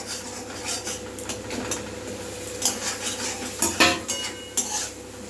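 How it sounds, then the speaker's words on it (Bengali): Fried vegetables stirred into shukto spice mixture in a pan: close metallic spatula scrapes and clinks with a faint low sizzle beneath, and no voices. "ভালো করে মিশিয়ে নেব"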